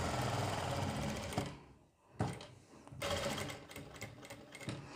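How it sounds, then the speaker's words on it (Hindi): Sewing machine stitching a foam button and lace neck design, a loud continuous mechanical whirr that stops for under a second, then runs again, close and steady with no voices. "यहाँ पर हम सिलाई लगा लेंगे"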